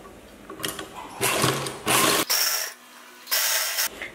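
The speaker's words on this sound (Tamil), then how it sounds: "வச்சுட்டு தையல் போட்டுடலாம்." A sewing machine stitching a chudithar top runs in several short bursts of rapid mechanical whirring, separated by brief pauses, close and clear.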